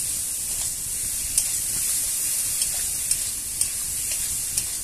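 Kochur loti (taro stolons) being sautéed with white and black mustard paste in plenty of oil, a steady bright sizzle with occasional soft stirring clicks from the pan.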